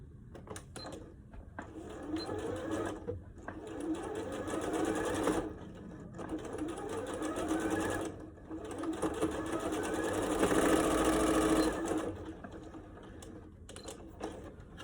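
A sewing machine stitches elastic down onto a fabric face mask in a sewing studio, running in steady bursts of rapid mechanical whirring separated by short pauses, close and moderately loud.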